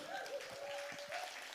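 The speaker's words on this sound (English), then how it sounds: "Can we give a massive round of applause for Amanda?" Audience applause for the chair of a panel session at an arts leadership event, a steady wash of clapping that fills the whole moment, with a faint voice murmuring beneath it.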